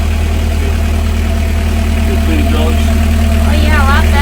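A yacht engine idles with a constant deep, loud drone and steady vibration, while a person talks over it throughout.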